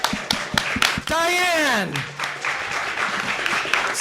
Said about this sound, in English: By show of applause with our audience, we're going to pick Geek Girl of the Year.